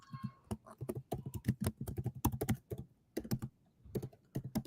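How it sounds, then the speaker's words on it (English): Typing on a computer keyboard, quick uneven runs of soft key clicks with short pauses between bursts, close and fairly quiet, with no voices. "I'm typing what the book is called"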